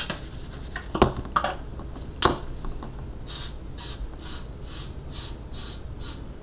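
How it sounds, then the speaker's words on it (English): A series of short cooking-spray aerosol bursts hiss in quick succession onto a baking pan, close by, after a few clatters and taps of handling. "We have to spray the pan down with some spray so it doesn't stick"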